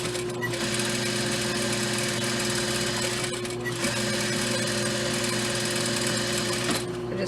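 A sewing machine runs steadily, top stitching a straight line along a dress with a blue aqua panel, its hum continuous and close, with a short slowdown midway and another near the end.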